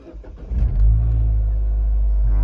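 A Mini Cooper S engine cranks briefly and fires up after a LUFI X1 gauge installation, then settles into a loud, steady idle close by.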